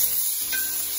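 Steak sizzles steadily in a hot cast iron pan, a close, even hiss of frying fat that holds constant throughout without any talk.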